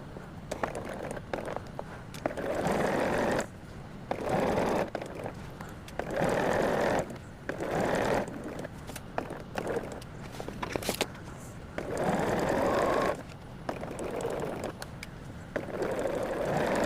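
A home sewing machine stitches pieces of a puzzle mystery quilt in repeated bursts of steady running, each a second or two long, separated by short pauses, close and fairly loud with no talking.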